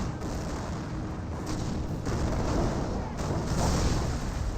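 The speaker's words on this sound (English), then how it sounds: "Landmine got detonated there." A landmine detonates in the World War II strategy game Company of Heroes, a deep, rumbling explosion that swells amid continuous battlefield gunfire and artillery, loud and sustained across the moment.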